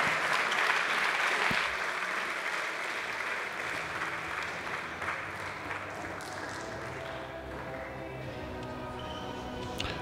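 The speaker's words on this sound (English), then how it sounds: "If you give both players a huge round of applause" A crowd applauds after an individual squash final at the 2018 FISU World University Championships, loud dense clapping at first that gradually thins and fades into scattered claps across the arena.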